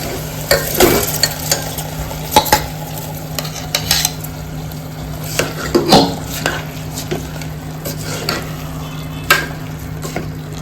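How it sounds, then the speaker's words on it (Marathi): Soaked rice being stirred into a val khichdi mixture in a pan, with repeated scraping and clinking of a spoon against metal over a soft background sizzle, close and without talk. "आता हे मिक्स करून घेऊया"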